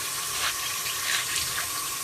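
Tap water runs steadily into a sink while artichokes are rinsed for an Italian-style dish, a moderate, even splashing stream with small fluctuations.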